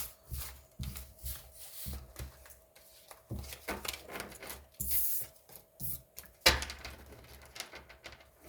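Tarot cards being shuffled by hand nearby, a series of irregular papery riffles and soft rubbing bursts with short gaps between them, moderately loud, with no speech.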